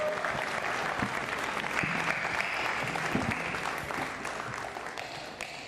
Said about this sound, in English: Round of applause for these two.